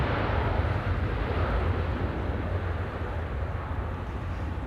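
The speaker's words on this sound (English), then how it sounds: "JetBlue not using the reversers with the headwind" A JetBlue airliner rolls out along the runway after landing at Amsterdam Schiphol in windy weather, its thrust reversers left unused: a steady, loud broadband roar of engine and rushing wind holds level throughout with no voices.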